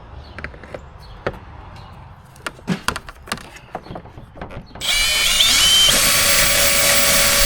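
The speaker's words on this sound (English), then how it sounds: "We're going to drill those holes so it has that much clearance" A power drill bores holes through plastic cowl fasteners on a 2015–2020 Ford F-150, starting with scattered clicks and taps before a steady, loud whirring drill run fills the last few seconds.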